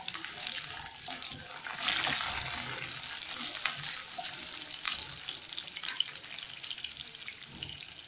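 Green chillies and two dried red chillies frying in hot oil for tamarind pulihora, a steady close crackle and sizzle with faint clinks of stirring throughout.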